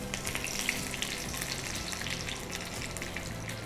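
Crushed garlic fries in hot oil for a tempering of jackfruit seed sasive, giving a steady, dense sizzle with fine crackles, close and unbroken.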